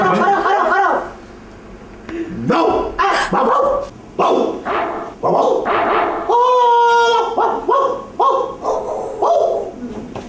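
A man imitates a dog with his voice in a comic Pakistani stage show, delivering a string of loud, close barks and yips with a whining, drawn-out tone in between, under a noisy room.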